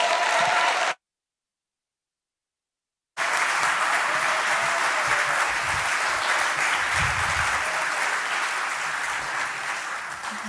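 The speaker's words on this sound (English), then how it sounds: "Give her a big round of applause." Loud, sustained crowd applause at an anti-war Stop the War event marking twenty years of the War on Terror, breaking in after a brief silent gap and continuing steadily to the end.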